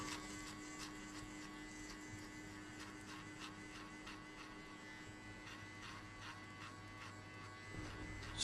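Electric hair clippers at a skin fade haircut give a steady, faint buzzing hum with a slightly pulsing texture that runs unbroken throughout.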